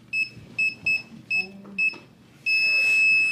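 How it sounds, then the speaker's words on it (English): A home security alarm being set gives five short, evenly spaced electronic beeps, then a long continuous tone, close and clear over faint background noise. "Setting the alarm."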